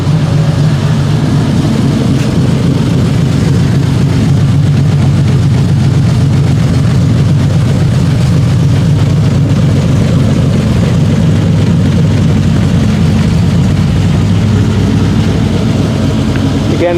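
A car engine fitted with a cam idles a little lumpy at just over 1,000 RPM, a loud, close, continuous low rumble with a slightly uneven pulse.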